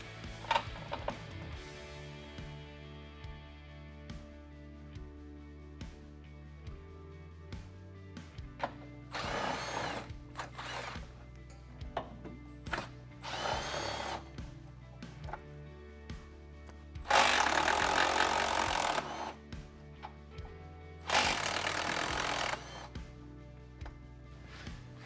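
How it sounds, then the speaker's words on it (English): A power tool or socket driver on the rear bumper nuts of a Jeep Gladiator JT, several short bursts of whirring with pauses between them over background music, close and fairly loud. "We're gonna remove these two nuts right here."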